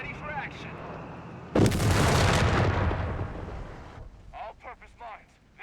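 Rapid gunfire from a triple-fed 8-rad gun in the Company of Heroes 3 strategy game: a loud, dense burst of shots erupts suddenly, roars for about two seconds and then fades into softer game sounds.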